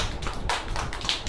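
Small children in a fruit-recognition class clap their hands, giving a brief flurry of close, uneven claps with no talking.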